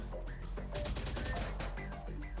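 Gunfire in Terminator: Dark Fate - Defiance, loud and rapid with a burst of closely spaced shots in a dense, continuous battle mix.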